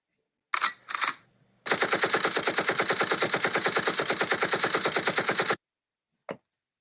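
Gunfire sound effect: two quick shots, then a long, loud, rapid burst of automatic fire at an even rhythm, ending with a final short shot.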